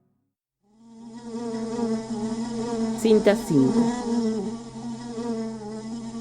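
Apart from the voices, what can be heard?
housefly buzzing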